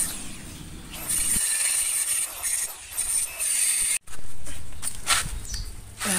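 A homemade welded steel hand press is worked by hand, giving a steady, close mechanical grinding and ratcheting with a high metallic whine. The sound breaks off for a moment midway, then returns louder. No one speaks.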